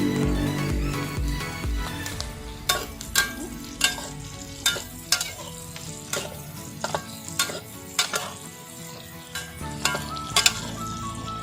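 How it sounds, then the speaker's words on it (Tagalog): Garlic and onion sauté in a clay pot, a steady frying sizzle with clear stirring scrapes and clinks of a utensil on the pot, close and alone. "i-light brown din yung mga sangkap natin sa pagigisa, yung bawang at saka sibuyas"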